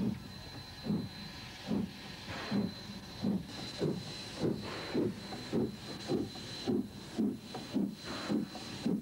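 A steam locomotive standing with its boiler fired, giving off a steady hiss with a regular rhythmic chuffing pulse, close and moderately loud, with no voices.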